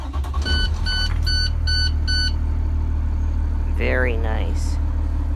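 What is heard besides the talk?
2017 International IC-CE bus Cummins ISB 6.7 engine starting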